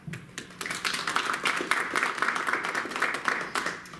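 Audience applause fills the room at a school board of education meeting, a steady wash of many hands clapping at close-to-mid distance for several seconds with no voices over it.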